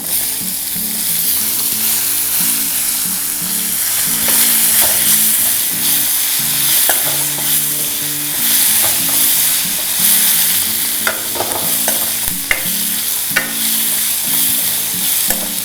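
Onions sizzling loudly in hot tempering oil, with a steady hiss, occasional pops, and scraping stirring sounds throughout.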